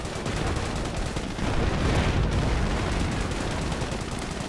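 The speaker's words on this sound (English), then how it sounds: "Sherman just keeps firing away though." Sherman tank firing in a World War II strategy video game amid a dense, continuous battle din of gunfire and explosions, loud and steady throughout with no voices.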